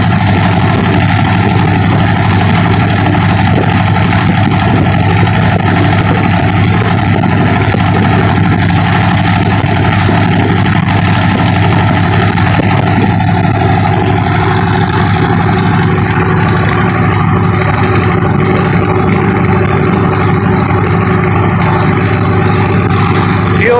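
An H5 engine runs at a steady idle after start-up for an oil temperature check, a loud continuous low rumble with a constant drone and no break throughout.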